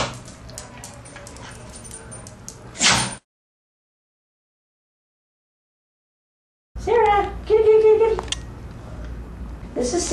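A beagle at an animal shelter barks and whimpers in short yips and whines, close and loud, split by a stretch of silence, with a voice talking over the dog.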